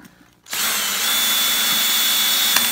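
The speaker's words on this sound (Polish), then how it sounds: "mam wiertarkę stacjonarną ze sprzęgłem, z dwoma biegami, z precyzyjnym uchwytem" A two-speed bench drill with a clutch and precision chuck, powered from a 12 V computer power supply, spins up after a brief quiet start and keeps up a steady, bright whirring drone close by.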